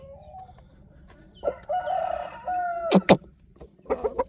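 A rooster crows loudly and nearby, with a few short clucks and squawks around it.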